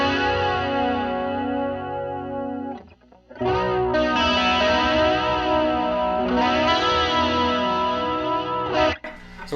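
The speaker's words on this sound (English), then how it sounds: "chorus pedal" An electric guitar with overdrive runs through a chorus pedal for an Alex Lifeson style tone, ringing sustained chords with a shimmering, wavering modulation, a brief dip partway through, then loud continuous strumming again.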